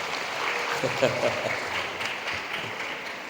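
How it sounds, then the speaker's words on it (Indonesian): A group at an Islamic New Year gathering at a boarding school in Sukabumi, Indonesia, claps steadily in a continuous wash of applause, with a brief voice rising above it near the middle. "Tepuk tangan buat kawan kita hari ini."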